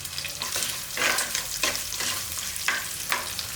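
Shallots and garlic sautéing in a pan for a fish curry, loud close sizzling broken by repeated rhythmic scrapes of a spatula stirring.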